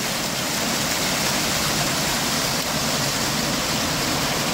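A waterfall on a river roars in a constant, dense rush of falling water, loud and close, with no pause or change throughout.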